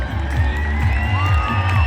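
A stadium crowd at a Special Olympics Oregon ceremony cheers and shouts for the athletes, a dense, sustained roar with whoops rising above it.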